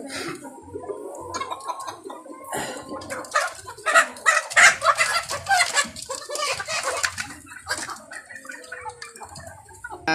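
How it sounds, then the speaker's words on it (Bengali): Silkie hens, roosters and other chickens cluck and call in a poultry farm, several birds close by in irregular bursts, with someone talking at times. "এখানে মোরগ আছে, এখানে অনেকগুলি মোরগ আছে, মুরগি আছে"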